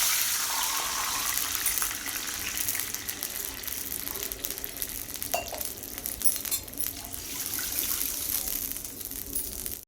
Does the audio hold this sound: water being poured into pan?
yes